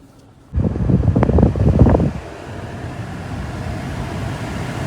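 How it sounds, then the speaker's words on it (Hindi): The air conditioning fan in a Tata Punch starts up after a near-silent moment, blowing strongly in a rushing whoosh for a second and a half before easing to a steady softer hum inside the cabin. "तो आपने आवाज़ सुनी होगी, क्योंकि यार बिना एसी के ना अभी अंदर बैठना बहुत मुश्किल है।"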